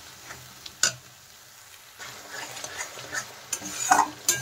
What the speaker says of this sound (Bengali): এখন কিন্তু এই মশলাটা কিন্তু চালিয়েই যেতে হবে, নালে কিন্তু নিচে লেগে যাবে।